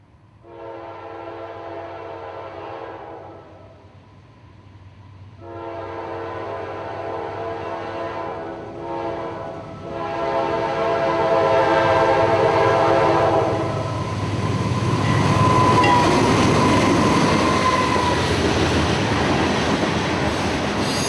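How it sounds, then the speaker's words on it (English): A train horn sounds in long blasts, then a heavy freight train hauling aggregate rumbles past with rising clatter and squealing wheels. "At about 10:30 came K721, an aggregate train headed for Winston."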